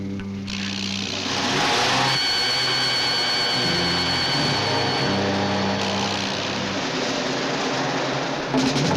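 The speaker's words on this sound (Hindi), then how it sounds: "गाड़ी स्टार्ट कर।" An engine turns over and runs steadily in a 1980 Hindi action film scene, a continuous mechanical drone with a whining tone that holds for several seconds and stays fairly loud throughout.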